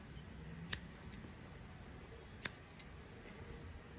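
Two sharp, quiet snips of scissors cutting leftover thread in a quiet room, spaced nearly two seconds apart.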